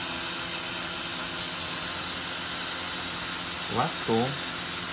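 A $58 Sharper Image drone's motors run as a steady high-pitched whine through the whole stretch, with a brief spoken comment near the end.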